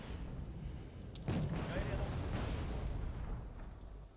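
Missile launch from BMP infantry fighting vehicles in Wargame: Red Dragon, a sudden roaring whoosh and rumble that swells and sustains for several seconds over a low battlefield background.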